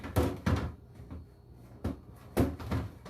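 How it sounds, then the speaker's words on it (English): A refrigerator door is pulled wide and a drawer is handled, giving several sharp knocks and clunks in uneven bursts, fairly close and with no talk. "I got to get the door to open really wide."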